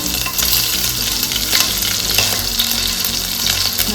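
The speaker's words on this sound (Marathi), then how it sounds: "तेल तापलं आहे आता आपण फोडणीमध्ये जिरो नंबर हे हिरव्या मिरच्या" Cumin seeds and green chillies sizzle in a hot mix of half oil and half ghee, a loud constant crackling fry with stirring, close up and without any talk.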